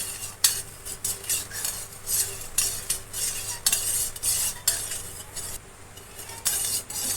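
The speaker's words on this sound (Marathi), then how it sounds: "आता आपल्याला हे सर्व मिश्रण ढवळून घ्यायचं आहे असं मिक्स करून घ्यायचं आहे" A spoon scrapes and clinks against a pot, stirring a kokum syrup mixture to dissolve the sugar. Rhythmic, close strokes repeat alone through the clip, with no talking.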